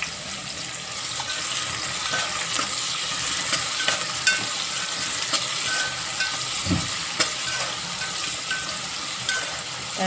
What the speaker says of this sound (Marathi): जिरं लाल व्हायला लागलं आहे त्यात आपण कांदा घालून घेऊ